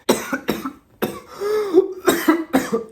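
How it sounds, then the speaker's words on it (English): Several sharp coughs in short bursts, close by, with a brief throaty pause in the middle before more coughing. "It's making me cough."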